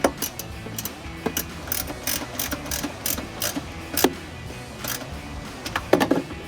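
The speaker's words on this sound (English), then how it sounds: "There we go, 6-inch extension." A 10mm ratchet socket on a 6-inch extension clicks in quick, close bursts of pawl ratcheting while snugging a bolt during a cold air intake install on a 2022-2024 Toyota Tundra, alone without talk.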